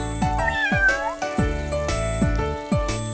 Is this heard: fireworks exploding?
no